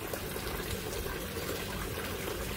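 Spring water runs and splashes steadily at a roadside spring in a Swiss village, a constant close trickling rush with no voices.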